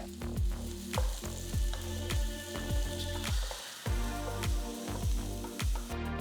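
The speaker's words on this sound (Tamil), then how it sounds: "கூட 2 பெரிய வெங்காயத்தை பொடியா நறுக்கி போட்டு கிண்டுங்க." Chopped onions sizzle and crackle loudly in hot oil with cumin seeds, with rhythmic stirring scrapes repeating through the pan.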